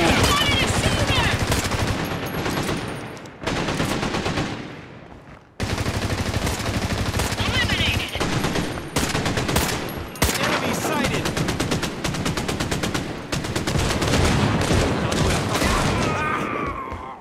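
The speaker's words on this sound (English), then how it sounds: "Somebody is shooting at!" Automatic gunfire in the shooter game Caliber, with long rapid bursts rattling loud and close. Brief pauses break up the firing, and a voice talks under the shooting.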